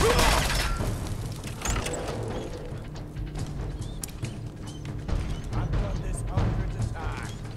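Gun reloading in the video game Fallout 4, a cluster of mechanical clacks and metallic clicks over a dense game soundtrack and background noise, with louder bursts near the start and end.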